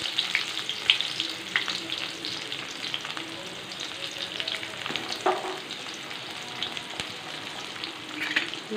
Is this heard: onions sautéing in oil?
yes